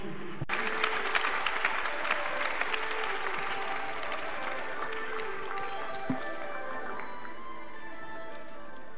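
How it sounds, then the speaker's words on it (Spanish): A conference audience at a European left-wing political event applauds a speaker being introduced, sustained clapping from a large crowd that fades slightly over several seconds. "Un aplauso para Connie Reuter."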